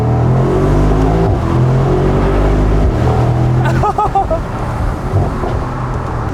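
A Mercedes-AMG SL 63 with an MCT transmission drones loudly under acceleration, and its engine note breaks sharply midway through as a gear shift lands.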